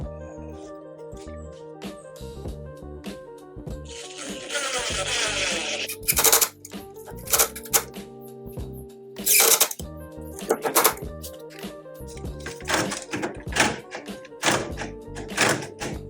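Screws being driven in for a door latch plate during a new door installation: whirring bursts of a driver interspersed with sharp clicks and thunks, close and moderately loud, without talking.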